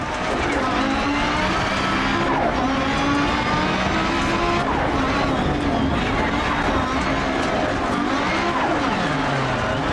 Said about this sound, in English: Oh, engine's bogging. Look at that turbo lag.